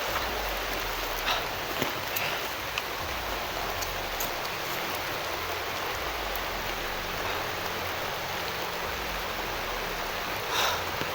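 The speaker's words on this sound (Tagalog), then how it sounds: "lakas ng ulan." Heavy rain pours down steadily, a dense continuous hiss of drops on surfaces, with no pause throughout.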